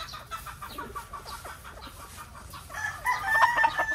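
A rooster crows in a game fowl breeding yard on a farm, the call growing louder toward the end over softer clucking and background chatter of other birds, fairly faint overall.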